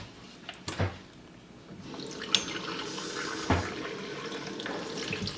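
Steady running water from a tap, a continuous broadband rush with a few brief clunks and knocks along the way.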